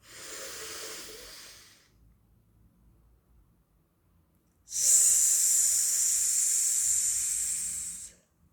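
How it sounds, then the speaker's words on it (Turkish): Slow, deep breaths during a guided breathing exercise: a softer airy breath, a quiet pause, then a long, loud, hissing exhale close to the microphone. "Nefes alıp veriyorum."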